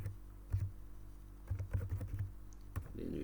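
A computer keyboard is typed on in short, quiet bursts of keystrokes, with brief pauses between clusters, over a low steady hum and with no talking.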